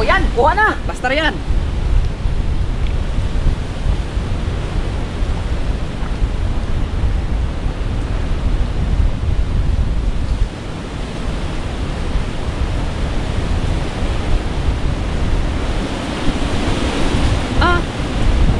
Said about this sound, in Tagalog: Ah, kalakas ang hangin ah.